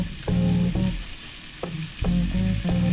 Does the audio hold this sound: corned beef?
yes